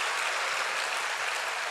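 A church congregation at a Friday night worship service claps in a dense, even wash of applause, steady and moderately loud, with no voices over it.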